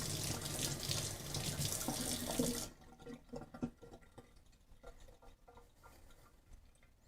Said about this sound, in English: So now I'm going to go rinse these off with water.